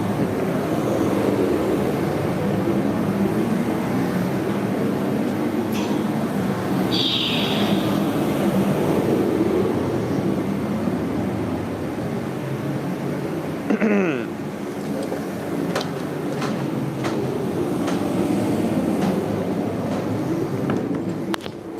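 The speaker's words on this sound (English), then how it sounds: "gonna go shut off this compressor so it doesn't jump scare us" An air compressor runs in a workshop where skateboard decks are handcrafted, giving a loud, steady broadband drone that holds for the whole stretch, with a few faint clicks and clatters over it and no talking.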